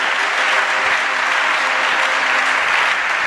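A church congregation applauds in praise of Jesus during a sermon, a dense and steady wash of clapping hands that fills the space without a break from start to end.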